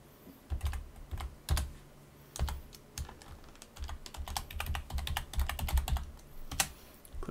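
A phone extension is typed on a computer keyboard to sign in to a desktop softphone, giving steady runs of crisp nearby keystrokes with brief pauses and no one speaking.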